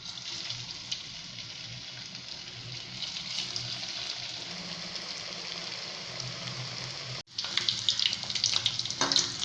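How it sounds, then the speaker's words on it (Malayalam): Snack batter frying in hot oil, a steady broadband hiss and crackle sustained at close range, broken by a brief drop before the sizzling returns with sharper bubbling pops. "എണ്ണ ചൂടായി വന്നിട്ടുണ്ട്. ഇതിലേക്ക് നമ്മളുടെ സ്നാക്ക് ബേക്കർ ഒന്ന് ഫ്രൈ ചെയ്തെടുക്കാം."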